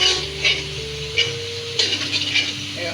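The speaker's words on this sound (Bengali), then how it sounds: "এখন আমি চাল কুমড়োগুলো সব দিয়ে দিলাম। কষিয়ে নেব।" Ash gourd pieces stir-fried in a hot pan, a loud continuous sizzle with scraping strokes of a spatula at a steady rhythm, close and without talk, over a low background tone.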